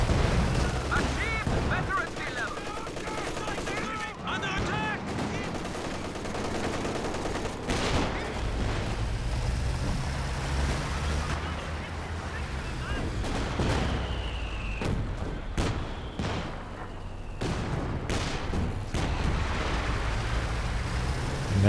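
Infantry support gun fire in a Company of Heroes match, with dense repeated gunshots, booms and artillery-like blasts layered over continuous battle noise and a talking voice throughout.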